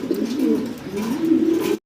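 A mundi pigeon coos nearby in a soft, low, rolling warble, two throaty phrases close together with no other sounds around.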